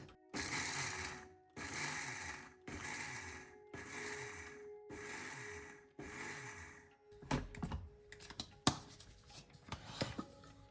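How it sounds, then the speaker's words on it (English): Cashew nuts pulsed in a grinder for kaju katli: six loud, even bursts of whirring blade noise, each about a second long with short pauses between, then rattling and tapping as the grinder is handled. "We're only going to be pulsing the cashew nuts."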